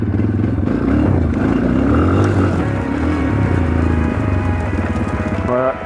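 A motorcycle revs and accelerates during wheelie practice, a loud, close engine with rising and falling pitch sustained throughout amid some clatter, with a voice speaking faintly underneath.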